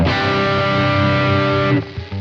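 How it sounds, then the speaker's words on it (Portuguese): Electric guitar run through a Boss GT-1 multi-effects unit with the overdrive block on and a high distortion level: one loud, dense, sustained chord ringing for nearly two seconds before it is cut off, with no talking. "um nível bem mais alto de distorção aqui para estar combando com esses captadores"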